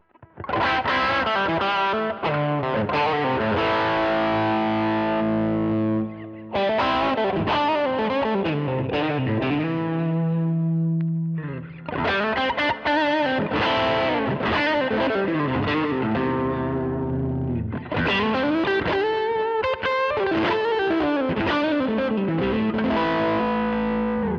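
Distorted electric guitar with Seymour Duncan Everything Axe pickups on the bridge pickup, a bright, biting tone, playing loud continuous chords and riffs in several phrases separated by brief pauses, no voices.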